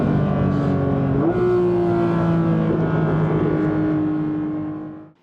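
A naturally aspirated engine in a Porsche 911 GT3 drones loud and close under load, its pitch stepping up after a gear change and holding steady before fading out at the end.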